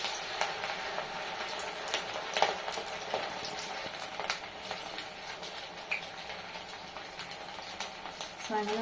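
Potato rava bonda dough balls fry in hot oil, a faint, steady crackling sizzle with scattered pops and light clicks throughout.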